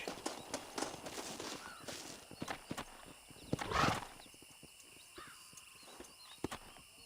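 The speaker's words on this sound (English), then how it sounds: "Aquele dali é o nosso cavalo" Horse in the video game Red Dead Redemption, with rhythmic hoofbeats clopping at moderate loudness and a whinny partway through, heard alone without talk.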